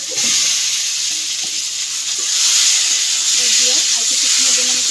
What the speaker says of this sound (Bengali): আর কিছুক্ষণের জন্য আমি কষিয়ে নিচ্ছি